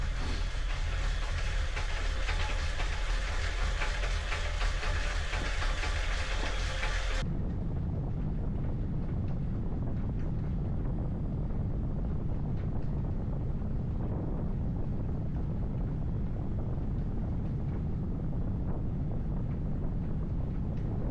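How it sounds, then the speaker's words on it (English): A blower fan runs to cool an indoor cyclist, giving a steady, close broadband whoosh. Its tone shifts slightly after the first few seconds, then holds constant with no speech. "I've turned the blower on just to try and keep cool"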